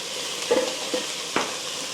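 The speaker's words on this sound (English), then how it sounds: "Just keep stirring it until it's soft, nice and soft, and the onions go a bit translucent." Onions cooking with salt and turmeric are stirred in a pan, giving a soft steady sizzle with a few brief scraping strokes of the spoon, close and without talk.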